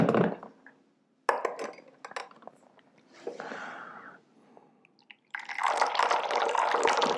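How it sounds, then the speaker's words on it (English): Hot water poured from a height into a tea vessel while brewing raw pu-erh tea: light clinks and drips, then a sustained, close splashing pour at the end. "Nice high pour there to cool it off a little bit so I don't burn myself."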